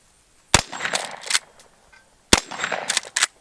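Two sharp, loud gunshots from a color case hardened Henry Big Boy carbine, about two seconds apart, each followed by a ringing decay and echo, with no talking.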